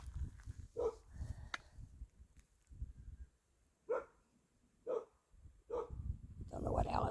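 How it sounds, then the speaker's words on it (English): A dog barks outdoors on a cold farm with livestock around, several separate sharp barks spaced a second or so apart at moderate distance, with talk and background noise between them. "Don't know what Alice is barking at."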